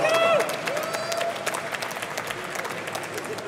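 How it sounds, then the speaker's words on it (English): A small audience claps to welcome a speaker at a Wikimedia evening session, a moderate, even patter of applause lasting a few seconds, with voices and a brief cheer mixed in at the start. "Please give a warm welcome and applause"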